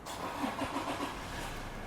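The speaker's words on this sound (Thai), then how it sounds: "เหยียบเบรกแล้วก็กดปุ่มสตาร์ท" A 2018 Toyota Fortuner 2.8 TRD Sportivo 2WD SUV starts by push button, its diesel engine turning over with a brief cranking pulse and settling into a steady, moderately loud idle.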